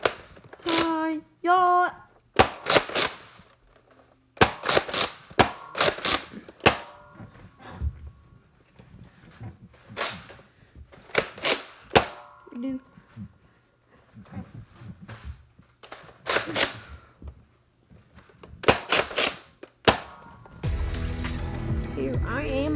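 A gun fires in Fortnite Chapter 2 Season 1, with sharp isolated shots spaced irregularly in single and double reports between stretches of talking.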